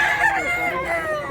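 A large year-old rooster at a market crows once, loud and close, in a single drawn-out call that fills the brief moment.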